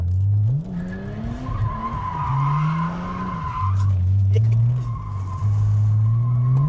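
Car tires squeal and skid in long, loud screeches during a U-turn while the engine revs and drops, close by, with a couple of separate skids in succession.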